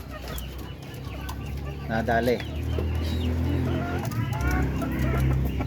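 Chickens cluck and call nearby outdoors on a backyard poultry farm raising Darag breeders, several birds sounding intermittently over steady low background noise while someone talks throughout.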